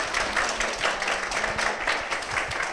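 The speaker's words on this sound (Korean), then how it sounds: "두 분께 다시 한번 박수 부탁드릴까요?" A church gathering applauds two speakers after a testimony, with moderate, continuous clapping from a room of people and a faint voice briefly underneath.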